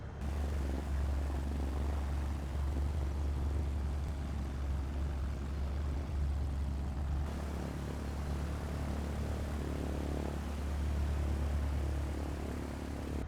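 A propeller aircraft in Microsoft Flight Simulator 2024 taxis on a long back taxi, its engine holding a steady, loud low drone throughout, with no voices.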